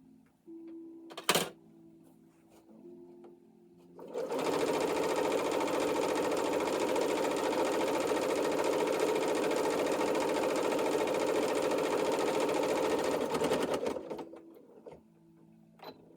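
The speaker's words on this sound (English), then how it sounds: "I'm going to cut this extra little piece of thread from the serger" A serger hums along the final edge of an apron in a long steady run of rapid stitching, starting after a sharp thunk and a few seconds of quiet and winding down near the end.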